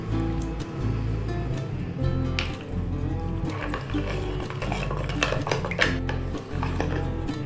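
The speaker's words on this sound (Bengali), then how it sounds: "দিয়ে এটাকে ঘেটে নেবো, ঠিক আছে? চিনিটাকে গুলে নেবো" A spoon stirs a large amount of sugar, with a little food colouring, into paan-leaf sharbat to dissolve it. Repeated light clinks and scrapes of metal against the vessel ring over a low steady background hum.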